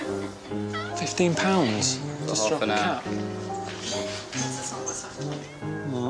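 Cats meow repeatedly in a cat café, their calls rising and falling close by while people talk over and between them.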